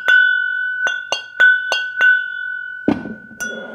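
Whiskey glasses tapped and clinked one after another to compare pitch, about six bright ringing strikes over a sustained tone, followed by a duller knock and a final clink, close and alone.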